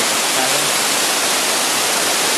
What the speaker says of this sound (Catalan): Aquí tenim una petita cascada